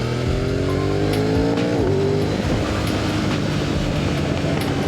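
A Yamaha MT-10 motorcycle accelerating on a road ride, loud engine rising in pitch through a gear change, then a rougher roaring drone with wind and road noise, recorded close with no talk.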